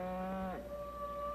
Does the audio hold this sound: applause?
no